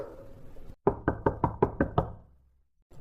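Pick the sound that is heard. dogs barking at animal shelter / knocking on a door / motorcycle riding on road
knocking on a door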